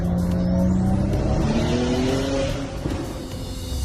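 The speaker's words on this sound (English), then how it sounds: "an Epic employee actually used the sounds of their own car to make the audio for the Nitro Drifter" Car engine of the Fortnite Nitro Drifter, recorded from a real car, roaring loudly with rising revs and shifting engine tones, easing slightly toward the end with no talk.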